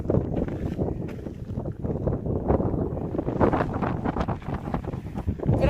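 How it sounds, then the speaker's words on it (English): Strong wind buffets the microphone on a hiking trail in Whitewater Canyon on the PCT, a steady loud roar with gusting surges throughout and no speech. "this is the windy side"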